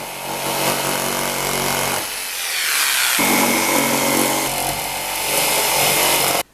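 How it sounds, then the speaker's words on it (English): A jigsaw roughly cuts out wooden pieces for a stag head, a loud, continuous, close buzzing rasp whose pitch shifts as the blade works through the wood. It runs for several seconds and stops abruptly, with no voices. "So instead, I'll roughly cut out the pieces with the jigsaw first."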